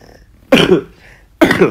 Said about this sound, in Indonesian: Aduh sorry, batuk.